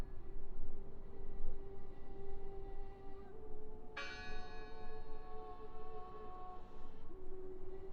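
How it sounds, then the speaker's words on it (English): A church bell tolls in a 1920s Norwegian setting, rendered as video-game sound: a sustained ringing tone with a fresh, louder strike partway through whose bright overtones hang and slowly fade over a low ambient hum. "Listen! The bell! They're still in there!"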